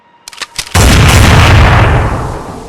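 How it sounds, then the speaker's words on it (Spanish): A single loud, close shotgun blast in a horror audio drama goes off after a few faint taps, then booms and decays with a long rumbling tail lasting a couple of seconds. "un disparo resonó detrás de mí, impactando directamente en el cráneo de la criatura"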